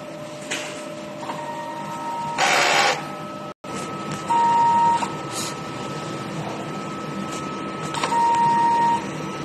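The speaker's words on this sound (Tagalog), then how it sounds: "Head clean." A large format printer runs a print head cleaning cycle, with a steady mechanical whir, bursts of louder motor noise, a brief cutout and repeated electronic beeps.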